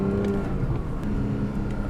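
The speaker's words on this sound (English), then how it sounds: "I like how that engine sounds at part throttle at low revs" A Porsche 718 Boxster GTS 4.0 engine at part throttle and low revs, a steady, fairly loud drone heard from inside the car.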